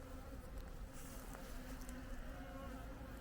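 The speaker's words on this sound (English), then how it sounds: "there's definitely bees" Bees buzz steadily around an opened beehive, a low, constant hum with the sound of many insects, heard from close by with no talking.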